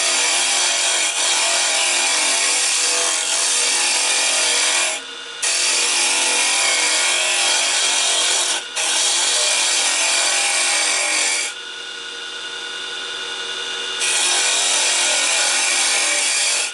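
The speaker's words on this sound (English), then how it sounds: "I will use the carbide tool here as well, just a small bit" A carbide tool cuts a banksia pod spinning on a wood lathe, producing a loud, continuous scraping rasp that breaks off briefly twice and dips in level for a few seconds before resuming.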